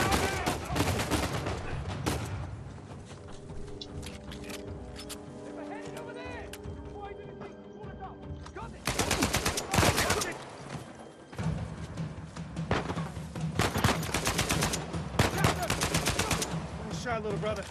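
Gunfire in the game Uncharted 4, bursts of rapid shots and heavy impacts in two stretches, loud and close, with a quieter gap between them where people talk.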